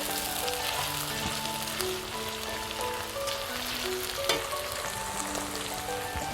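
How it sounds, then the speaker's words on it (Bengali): Onions sizzle steadily as they sauté in a hot pan for a Bengali chicken curry, a constant close frying hiss with occasional clinks of a utensil. "পেঁয়াজটা আমি ভালোভাবে কিছুক্ষণ কষিয়ে নিচ্ছি।"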